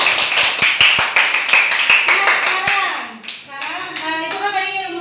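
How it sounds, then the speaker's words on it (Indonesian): Classroom clapping from students in a biology lesson, a run of sharp hand claps in the first three seconds that gives way to voices and chatter. "Oke, tepuk tangan dong buat kita semua."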